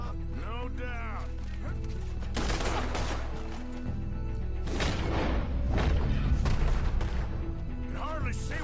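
Gunfire in the video game Red Dead Redemption 2 during a night shootout, with repeated booming shots and bursts over game music while characters talk.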